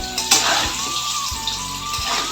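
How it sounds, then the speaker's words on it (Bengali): Potatoes frying in a pan, a continuous close sizzle with faint crackles and a few soft clatters, steady throughout with no talk. "এই পাশে ভাত চাপিয়েছি আলুটা আগে ভাজা করে নিই"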